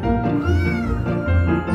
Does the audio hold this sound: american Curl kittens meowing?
yes